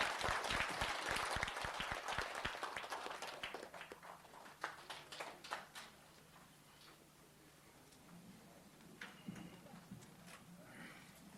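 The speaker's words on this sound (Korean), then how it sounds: "박수로 환영해 주시기 바랍니다" An audience at a 2001 Korean disability human rights award ceremony applauds to welcome a speaker. The clapping is dense at first, then thins out into scattered claps, and there is a faint murmur underneath.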